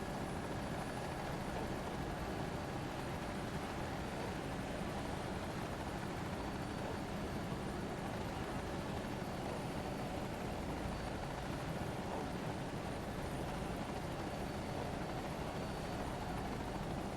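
A helicopter in a flight simulator game cruises over Corsica with a steady, loud, continuous rotor and turbine roar that holds evenly throughout, with no voices.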